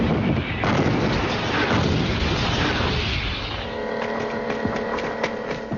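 Tank main gun firing in battle, a heavy continuous roar of blasts and rumbling booms that fades into a lingering hum with sharp crackles, loud and dense throughout.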